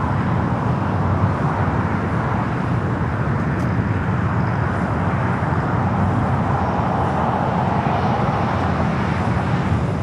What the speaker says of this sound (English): We do have a United Dreamliner heading here to the south side